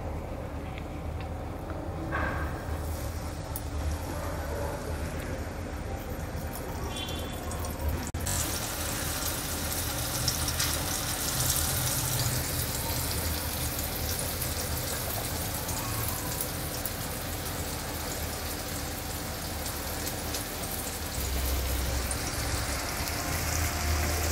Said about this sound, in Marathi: आता आपण या हलव्याच्या तुकड्या फ्राय करूया